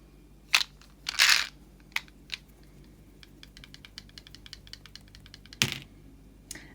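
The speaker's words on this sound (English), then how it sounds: "Okay, we're rolling the 4th set of dice." Eight Looney Tunes dice rattle and clatter as they are rolled, with a few sharp bursts of tumbling followed by a long series of quick, light clicks as they settle nearby; no one speaks.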